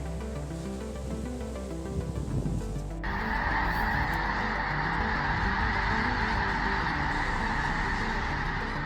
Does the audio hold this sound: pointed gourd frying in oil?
no